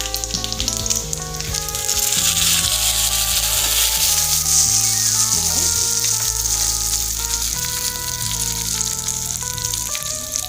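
Mustard seeds pop and sizzle steadily in hot oil for a Kerala-style beetroot pachadi, a dense continuous frying crackle close up, with no talking.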